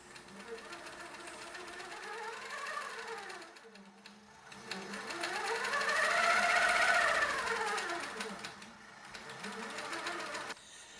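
A longarm quilting machine stitches a quilt, its motor whirring and rising and falling in pitch as the stitching head speeds up and slows down, loud and close with brief pauses between passes.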